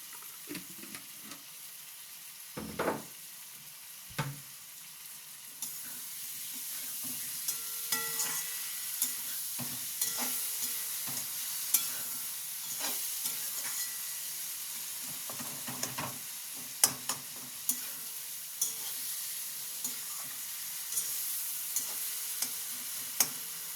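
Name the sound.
curry with eggplant, potato and rui fish being sautéed in pan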